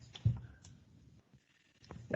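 Computer mouse clicking during an online local council committee meeting, a few sharp clicks scattered over a quiet background with faint talk around them.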